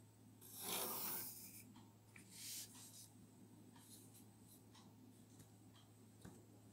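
Drawing axes on graph paper: a pen or pencil scratches and rubs in short strokes, a longer scrape followed by a second one, then lighter ticks and taps, quiet and close with no voice.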